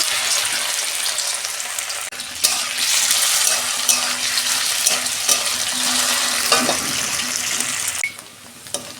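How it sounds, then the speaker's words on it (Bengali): Potatoes frying in hot oil in a wok, with a loud, continuous sizzle and crackle broken by a few sharp spikes as pieces shift, and the hiss softens near the end. "আমি প্রথমে আলুগুলো ভেজে নিচ্ছি।"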